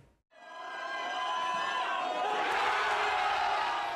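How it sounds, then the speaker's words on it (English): A crowd of soccer fans in Seoul erupts into loud, sustained cheering and whooping after a brief silence. "Cheers and applause burst out from soccer fans who aren't shy about showing their passion."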